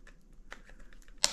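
Scissors snip through plastic trim while a fog light bezel and DRL are fitted to a 2023 Toyota Tacoma TRD Off-Road. Small quiet clicks lead up to one sharp, loud snap near the end.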